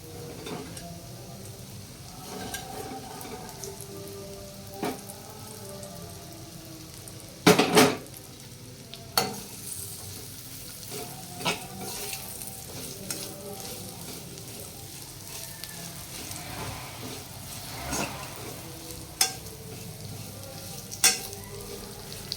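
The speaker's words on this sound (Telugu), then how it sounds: "ఇప్పుడు మనం ఆయిల్లో తీసిన ఈ కాకరకాయ ముక్కలు వేసుకొని కలుపుకోవాలి" Fried bitter gourd pieces are stirred into a pan with urad dal, peanuts and cumin over a low flame: a steady sizzle runs underneath while a spatula scrapes and knocks against the pan in irregular, sharp clanks.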